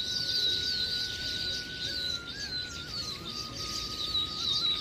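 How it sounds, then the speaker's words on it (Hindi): Small birds chirp around their nests in open village fields, a thin, busy twittering layered over a steady high drone. "देखो चिड़िया"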